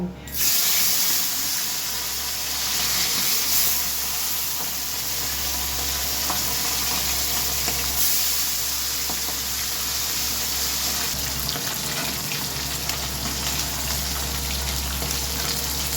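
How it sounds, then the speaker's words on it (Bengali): Pomfret fish pieces rubbed with salt and turmeric frying in hot oil, a loud, steady, close hiss and sizzle that holds without a break, with a faint low hum underneath and no talking. "এবার নুন হলুদ মাখানো পমফ্রেট মাছগুলো ভেজে নেব"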